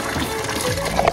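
Cold mountain spring water runs steadily from a roadside source in the hills on the way to Ranikhet, a close continuous flow with faint splashing.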